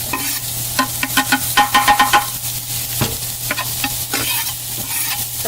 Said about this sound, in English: I'm going to just saute the onions until they're nice and tender